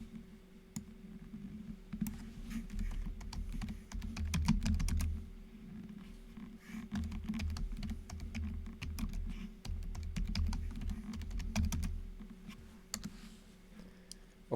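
Fingers type on a computer keyboard in a quiet room, a fairly close run of irregular clicks and key taps in bursts, some pauses between, with no speech.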